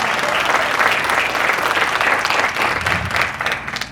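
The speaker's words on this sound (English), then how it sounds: "Why don't we give Dr. Emily Lee Tran another big round of applause" Conference audience breaks into sustained applause, a dense, even roar of many hands clapping throughout, fairly close and loud.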